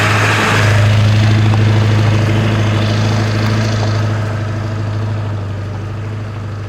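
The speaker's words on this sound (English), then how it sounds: "We're literally chugging along like a tractor." An old diesel truck carrying a big, heavy camper chugs uphill on a bumpy dirt road, its engine a loud, steady low drone with a close, continuous rumble throughout.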